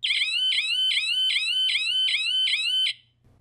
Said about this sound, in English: you can remotely trigger a loud alarm as a deterrent